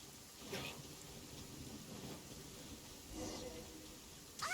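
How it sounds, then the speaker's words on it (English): Heavy rain hisses steadily through a Genshin Impact thunderstorm, with low rumbling thunder swelling in a couple of times and a sharper crack near the end. "Ah. Lightning storm!"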